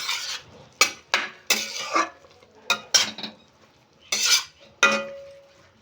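Amla pickle being mixed with Kashmiri chili powder, garam masala and chaat masala, giving a series of sharp scraping and clinking spoon-on-bowl strokes in irregular bursts, close and fairly loud with no talking.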